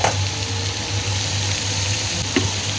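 Moong dal pakoras deep-frying in hot oil give a steady, loud, close sizzle throughout, with a brief clink of a utensil near the end.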